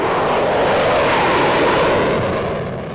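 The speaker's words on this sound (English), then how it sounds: "the planes already flying overhead" Airplanes flying overhead in a neighborhood near an airport, a loud, broad roar holding steady and then starting to fade, with no talk.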